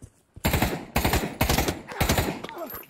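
Rapid bursts of automatic gunfire in Pavlov VR, a virtual-reality shooter played in a TTT round, with four or five loud, close volleys separated by short pauses across a few seconds.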